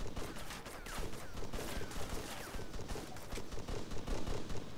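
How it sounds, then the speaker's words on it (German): Arma 3 battle gunfire, with dense, rapid bursts and scattered shots crackling continuously at moderate distance, fairly quiet and with no talk over them. "Irgendjemand schießt auch, aber ich habe keine Ahnung von wo."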